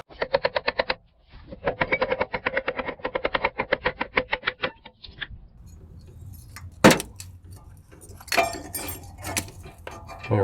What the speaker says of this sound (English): So the bolts on the clamshell are 14 millimeter. Let's go ahead and loosen up the bottom one.